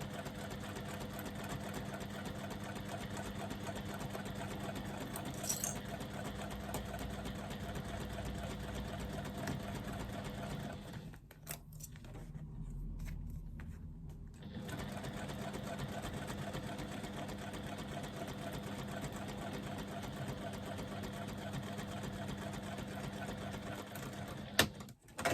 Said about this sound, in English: that's our first line of stitching completed